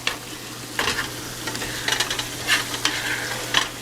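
Pasta with oregano sizzling steadily in a frying pan while it is stirred, with scraping and clatter from the spoon over the continuous frying hiss and no talking.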